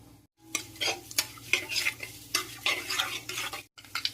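Mustard, fenugreek and cumin seeds sizzling in hot oil for tempering while a spoon stirs and scrapes the pan in quick, uneven strokes, fairly quiet and close, with no talking.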